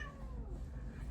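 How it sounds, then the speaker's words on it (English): A domestic cat meows with a rising then falling call, faint against steady background noise, alone with no talk. "that's my cat."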